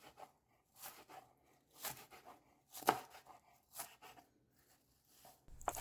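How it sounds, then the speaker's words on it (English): A knife chops kale on a cutting board in a quiet kitchen: a series of crisp, close, crunchy cuts arriving in irregular bursts, with soft pauses between strokes. "I don't really like chopping kale,"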